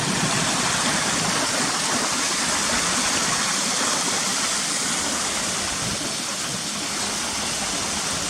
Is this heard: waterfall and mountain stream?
yes